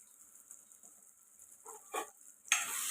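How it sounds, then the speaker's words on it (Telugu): Chilli powder, coriander powder and turmeric fry in a masala for a drumstick dal curry, with soft stirring scrapes that end in a sudden loud, steady sizzle. "1 నిమిషం పాటు ఈ మసాలాలోనే ఫ్రై చేసుకున్నాం"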